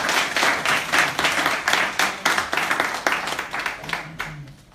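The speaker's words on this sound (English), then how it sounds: "Please give him a round of applause." Audience applause at a talk, a dense burst of many hands clapping that builds quickly, holds steady for several seconds and then thins out, with faint voices underneath as it fades.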